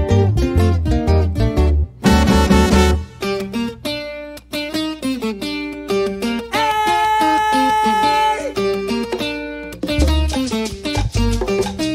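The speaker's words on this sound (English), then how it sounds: "Here is the sound of salsa." Salsa music recording, an Afro-Latin dance style, with dense rhythmic percussion, bass and bright melodic lines, loud and continuous with shifting sections and no speaking.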